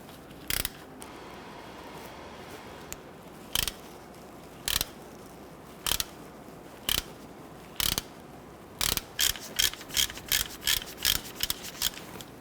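A ratchet loosens a T30 Torx screw on a rear ABS sensor of a 2006-2010 Hummer H3, giving scattered single clicks, then a quick run of rapid ratcheting clicks near the end, close up with no talking.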